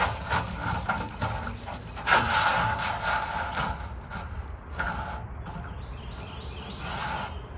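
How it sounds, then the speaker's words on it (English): RV sewer hose pushed into a bumper storage tube and the end cap fitted, heard as close scraping, rubbing and plastic clicking with a few light knocks over steady outdoor background noise. "you're going to insert the end of the hose into the bumper"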